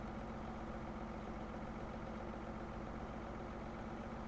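A Jacto Uniport 3030 self-propelled sprayer tractor in Farming Simulator 17 drives along asphalt, its engine a steady, even drone with no change in pitch or level.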